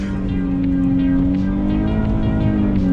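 Nissan G37s or 370z with test pipes exhaust, mostly stock, launching in Mexico; a loud, steady droning engine note held close to the microphone, with no talking.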